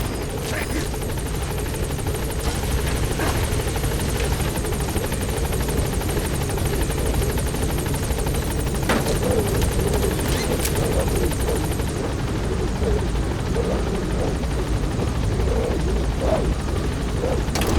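The Pequod helicopter in Metal Gear Solid V: The Phantom Pain thrums steadily and loudly at the landing zone, rotor chop filling the whole stretch without a break, with faint game sounds layered in.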